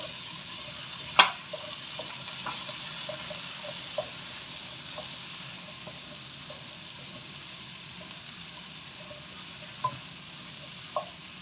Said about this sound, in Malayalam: നമുക്ക് ഗ്രീൻ പീസ് ഇതിലേക്ക് ഇടുക നന്നായിട്ട് ഇളക്കാം